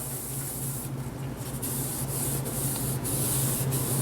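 Green 3M scrub pad rubbed lightly over the exterior surfaces of a Turbochef i3 oven, a steady close-up abrasive scratching that continues without pause and with no talk.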